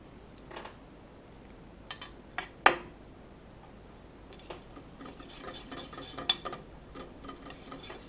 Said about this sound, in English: I'm just going to mix a little bit of Rowney vermilion into it